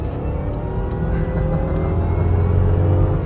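A 2006 Range Rover L322 Supercharged accelerating hard from about 40 mph, its engine a steady, loud low rumble and whir that builds slightly as it pulls, heard from inside the cabin with no talking.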